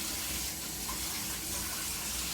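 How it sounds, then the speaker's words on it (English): A water tap runs steadily, a continuous close rushing and splashing that holds at an even level for a couple of seconds with no voices over it. "turn the water, you know, a little bit. Don't need spraying that much water."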